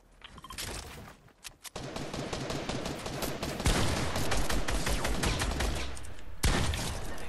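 Sustained video game shooter gunfire, dense rapid bursts and volleys running almost continuously and loud, with a brief lull early on before the firing swells again.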